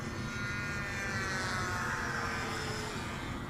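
Freewing Stinger 90 RC jet at full throttle on a high-speed runway pass, a steady loud whine of its ducted fan holding through the clip with a slight rise in pitch as it passes.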